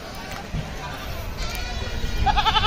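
Goats bleat at an Eid livestock market, a short wavering call rising near the end over busy crowd noise and someone talking.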